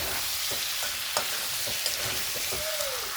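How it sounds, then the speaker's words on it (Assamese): Mutton sizzling and frying in a pan as water is added, a steady broadband hiss with scattered pops and crackles, close and continuous, with a brief rising squeak near the end. "মই অলপখিনি পানী এড কৰি মাংসখিনি অলপ সিজাই ল'ম"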